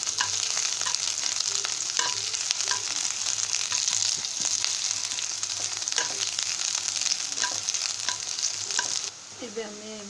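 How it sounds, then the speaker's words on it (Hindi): Chopped onions sizzle and crackle steadily in hot oil in a pan while cooking cabbage curry, with occasional stirring scrapes; the loud frying hiss runs nearly throughout and drops away abruptly near the end. "एबे कटा प्याज पकेबा फ्राई करना तेल सहित"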